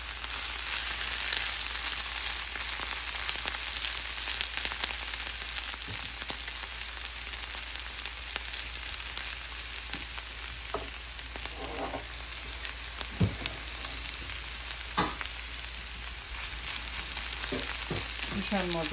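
Beetroot bhaji frying in a pan, a dense steady sizzle with occasional spatula scrapes and clinks, close and continuous with no talking.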